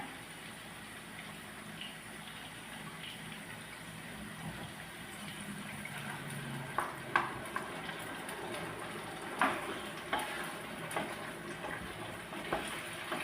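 Chilli chicken sauce being stirred in a pan with cornflour, a steady low bubbling simmer with intermittent clicks and scrapes of a spoon growing more frequent toward the end.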